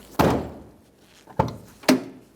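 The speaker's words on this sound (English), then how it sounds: "test the door to make sure it opens and shuts without binding anywhere." A door on a Ford E-350 Super Duty van, fitted with new weatherstrip seals, shuts with three solid, close thunks, the first and last heaviest, separated by brief quiet gaps.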